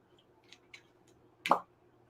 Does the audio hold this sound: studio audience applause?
no